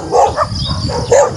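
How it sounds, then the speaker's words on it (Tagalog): Several dogs bark in short bursts outdoors near houses and fields along Gullas Drive, with two louder yelping barks standing out against the background. "Daming aso"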